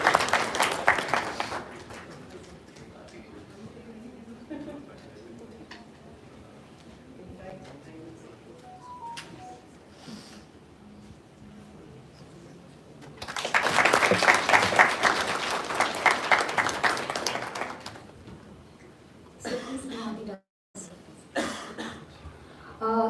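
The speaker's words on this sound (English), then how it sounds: "Give a round of applause." Audience applause at a live ophthalmology workshop felicitation, a broad burst of clapping swelling mid-stretch after a quieter hall with murmurs and coughs, then fading with scattered claps.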